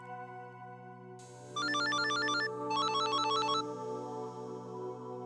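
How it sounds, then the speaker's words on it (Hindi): An electronic phone ringtone plays in two melodic bursts over a steady background hum, clear and close, with no voices. "कावेरी जी को फोन लगाता हूं।"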